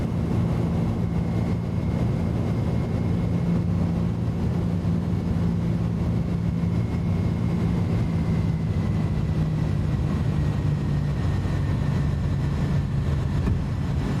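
Airbus A310-300 jet engines in a flight simulator during takeoff climb give a steady, continuous roar with a low drone and faint high whine, loud and unchanging throughout with no speech.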